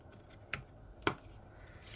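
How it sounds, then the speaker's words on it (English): Two crisp snips of scissors trimming a bit of ribbon on a handmade sparrow greeting card, close and fairly quiet, spaced about half a second apart over a low room hush. "I'm just going to trim this ribbon up just a teeny tiny bit."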